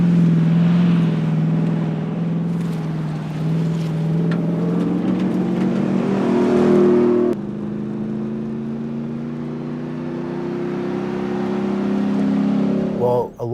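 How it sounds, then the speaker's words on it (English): A Ford F-150 Raptor R V8 engine runs loud and close, with a steady rumbling drone that swells and climbs in pitch before dropping to a lower held tone near the end. No one talks over it. "if you do have to have that V8 sound"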